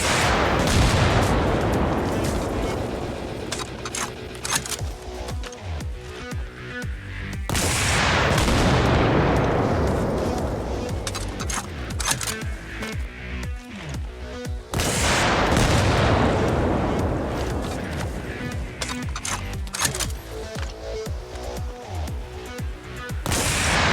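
Battlefield game combat with an RPG launching PG-7VR dual-charge anti-armor warheads at a Bradley fighting vehicle; three loud booming launch-and-impact blasts arrive roughly every seven to eight seconds, each followed by long rumbling decay and scattered gunfire.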